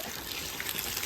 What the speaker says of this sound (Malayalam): കുറച്ചുകൂടെ വെള്ളം ഒഴിക്കണം